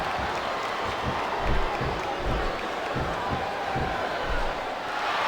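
An arena crowd in the WWE SmackDown vs Raw 2007 wrestling video game, a continuous dense roar of cheering with rhythmic thumps underneath, steady and loud throughout without a break.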